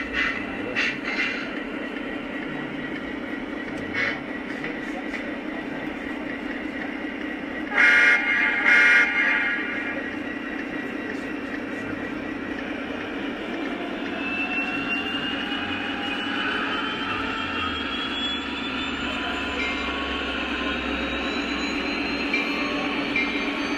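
A Lionel Legacy SD45 model diesel locomotive runs with a steady electronic diesel engine rumble and rail noise, broken by a brief loud horn blast partway through, with softer toots and the motor drone continuing throughout.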